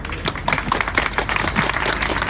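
Crowd at an outdoor ACA rally in New Orleans applauding, a dense, sustained wash of many hands clapping at close to mid distance with no pause.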